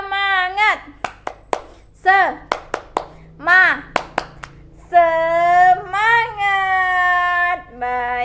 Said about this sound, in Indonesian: ayo kita tepuk semangat lagi ya.